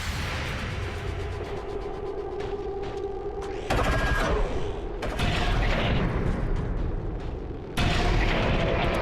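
Shotgun blasts in the XCOM 2 game, heavy booming reports with a rumbling tail, a few loud bursts spaced several seconds apart over constant low mechanical noise.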